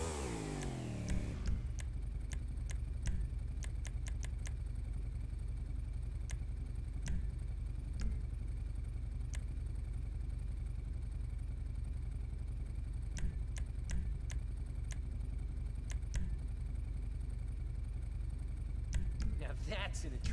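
Motorbike engine in a crime-themed video game, a steady mid-pitched drone running throughout with faint ticks and brief shifts that suggest gear changes, holding at an even level beneath the game's background sound.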